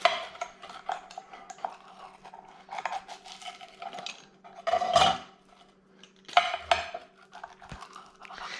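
A knife or cutter slicing through a crispy pepperoni pizza fresh from a Gozney Roccbox oven, with scattered crunchy cracks and scrapes against the pan, close by and fairly quiet.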